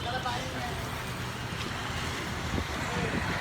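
Strong wind buffets outdoors in a continuous loud roar with rumbling gusts, close to the microphone.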